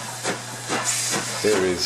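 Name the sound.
LMS Class 5 steam locomotive bringing in a train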